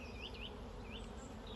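Honeybees buzz steadily at close range during an April apiary hive inspection, a dense continuous drone with individual bees whining and swooping past, and no talking.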